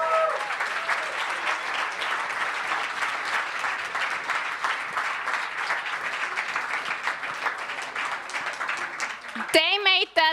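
Crowd applause for the organizing team at a Startup Weekend Stuttgart 2017 final pitch event, dense steady clapping filling the room, with a cheer and a voice rising near the end.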